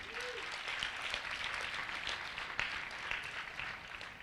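A round of applause from the audience at a spiritual lecture during a yoga festival, a soft, steady patter of many hands clapping at a distance, fairly faint.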